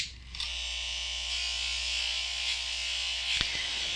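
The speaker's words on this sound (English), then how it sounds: "So I'm just going to give this a quick buff." An electric buffer whirs steadily while polishing a polymer clay pendant, a continuous high motor buzz that starts abruptly after a brief quiet moment and runs alone, with a small clack near the end.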